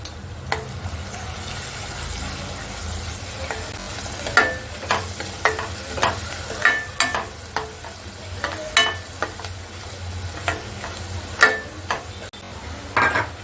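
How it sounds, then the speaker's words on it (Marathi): Kantola, a wild monsoon vegetable, cooks in a pan with Agri masala and turmeric. A continuous sizzle sits under repeated sharp clinks and scrapes of a spoon stirring against the pan, with no voices. "आता आपण भाजी टाकली"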